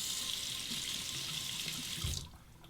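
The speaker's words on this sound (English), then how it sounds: "Temper the razor under the cold water." Cold tap water runs steadily into a sink over a safety razor with a fresh Feather blade, a close, even hiss that stops abruptly near the end, leaving quiet room tone.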